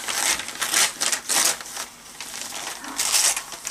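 Gift wrapping is ripped open by hand, close crackling tears and crinkling paper in several quick bursts with short pauses between them.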